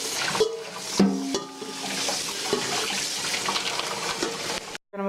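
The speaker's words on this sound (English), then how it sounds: "I'm going to rinse my colander out of all these little shavings, and then I'm going to give those a good rinse." Tap water runs into a colander at the sink while sugar snap peas are rinsed, a steady splashing stream with a few knocks and clatters, cutting off abruptly near the end.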